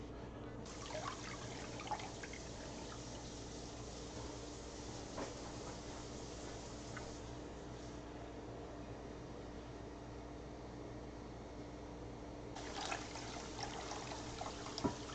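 Hot water pours and trickles into a pot for boiling soft pretzels, a faint continuous stream that stops and starts again near the end, no speech.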